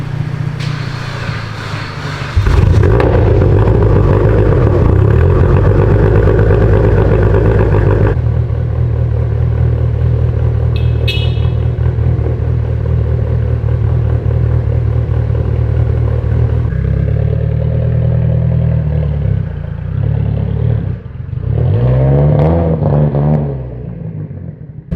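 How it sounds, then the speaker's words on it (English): A car's engine idles steadily right after being jump started, a close, loud low rumble that holds for over twenty seconds with a slight revving swell near the end. "Oh, jump starting my car."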